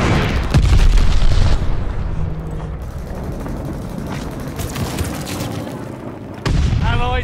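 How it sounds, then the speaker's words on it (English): An enemy glide bomb exploding in Call of Duty: Vanguard, a loud low boom with rumbling, gunfire-like crackle, fading into a sustained roar before a second sharp blast near the end. "Got an enemy glide bomb on the way"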